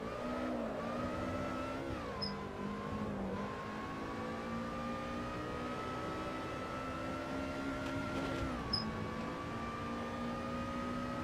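Lotus Lightweight Trofeo race car in Assetto Corsa, engine droning at high revs with a steady buzzing tone, dipping briefly at gear shifts and bouncing off the rev limiter, fairly faint and with no talk.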